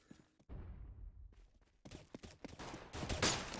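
Gunfire from a competitive first-person shooter match in esports play: a few isolated shots followed by rapid, sharp bursts of fire that grow louder and denser toward the end.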